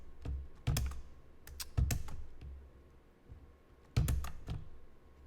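Someone types on a computer keyboard in short uneven bursts of sharp clicks, close and fairly quiet against a soft room hum, with pauses between the keystroke clusters.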